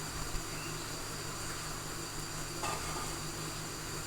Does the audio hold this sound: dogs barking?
no